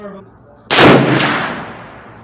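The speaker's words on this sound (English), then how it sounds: "I'm gonna shoot without the recoil pad, and let's see how bad the recoil is." Single loud, close gunshot from a Browning BLR lever-action rifle in .358 Winchester fired at a range, a sharp crack followed by a long decaying boom.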